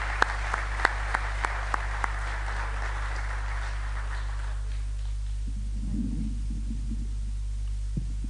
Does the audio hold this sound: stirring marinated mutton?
no